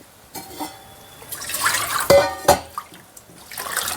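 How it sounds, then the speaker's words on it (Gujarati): Water pours and splashes into a pot in short bursts, with a few clinks and drips, close by and moderately loud. "અત્યારે હું એટલું પાણી જો આ ખીચડી આમાં પાટિયામાં એટલું પાણી મૂકું છું"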